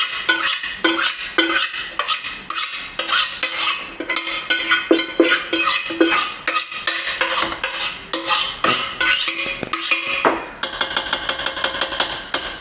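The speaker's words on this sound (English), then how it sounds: "I'm going to use the spoon. We don't want to lose any of the product" A spoon scrapes and taps rapidly against a bowl while homemade cottage cheese is gathered, a loud, busy run of close metallic clicks and scrapes that stays continuous throughout, with no voices.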